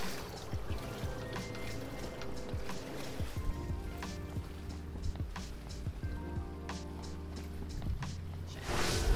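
Pool water sloshes and splashes in an indoor swimming pool as a swimmer sinks beneath the surface and pushes off the wall, with soft drips, bubbling and a gurgling surge near the end.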